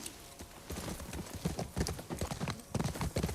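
Horse hooves clip-clop in a video game, a run of uneven, moderately close steps with a faint voice underneath at times.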